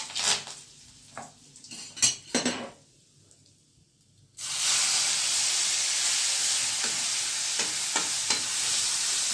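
Asafoetida, mustard seeds and curry leaves hit hot oil in a pan after a few clinks of a spoon and utensils, bursting into a loud, steady sizzle that carries on close up, with faint stirring clicks within it.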